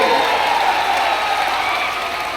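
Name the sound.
crowd applauding at a political rally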